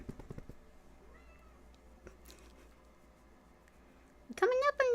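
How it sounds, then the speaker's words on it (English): A cat meows near the end, a short loud burst of harmonic cries at close range following a mostly quiet stretch of room sound and faint voice. "Oh, I hear a kitty."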